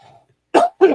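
A person nearby gives two short, harsh coughs in quick succession after a faint low murmur, recorded close and fairly loud.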